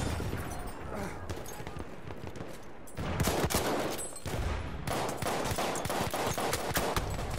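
Dense, continuous gunfire fills a Battlefield 1 multiplayer operations match, with rapid overlapping shots and booms, including pistol fire, loud and sustained throughout.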